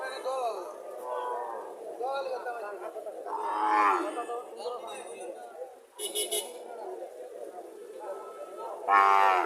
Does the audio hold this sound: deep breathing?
no